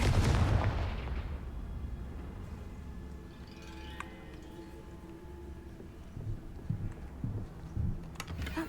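A Confringo blasting spell goes off in Hogwarts Legacy, a sharp loud burst at the start that decays into a rumbling tail, followed by faint thuds and small clicks.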